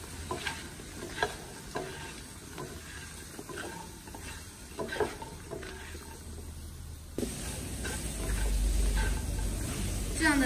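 Fresh lotus seeds are stir-fried in a wok with chili powder and steamed-fish soy sauce or light soy sauce, giving a continuous sizzle with repeated scraping stirs, close and fairly quiet, growing louder near the end.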